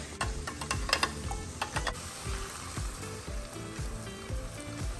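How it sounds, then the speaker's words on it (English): A spoon stirring drained ground beef with canned cream of mushroom soup and milk in a pan: repeated soft thuds and scraping strokes in a steady rhythm under a faint sizzle, with some sharp clicks near the start. "Now I'm gonna give that a stir"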